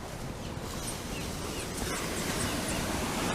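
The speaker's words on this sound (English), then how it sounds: "Beautiful, beautiful ocean." Surf rolls onto a white powder-sand beach in Barbados, heard as a steady, broad wash of wave noise with light wind and no voices.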